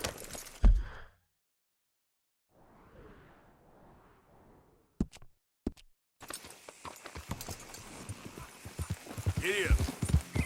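Horse hooves in Red Dead Redemption 2, a soft patter of clip-clopping steps after a short pause, followed by louder busy game noise with a voice briefly heard.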